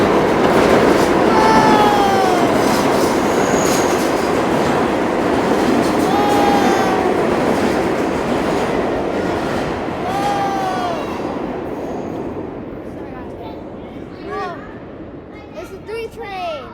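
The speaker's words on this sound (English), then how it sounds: "Oh, train's coming." A New York subway 3 train, an R62, rumbles and screeches into the station with a steady loud roar and repeated squealing wheel tones that fade as it slows, while people talk nearby.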